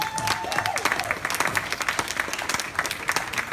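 A crowd applauds loudly and steadily at an inaugural party in Ontario celebrating JetBlue's return, with dense, continuous clapping filling the space and a few raised voices mixed in.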